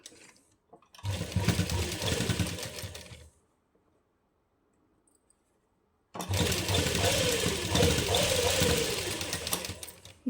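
A sewing machine stitches a seam along the hem of a suit trimmed with lace, running in two steady buzzing bursts separated by a few seconds of near silence.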